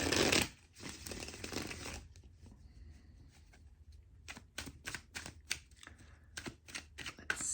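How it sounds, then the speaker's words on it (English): Tarot cards being shuffled up close: a burst of riffling at the start, then a quick run of sharp, rhythmic card snaps and flicks, with no voice over them. "let me shuffle the cards and see what comes out for you"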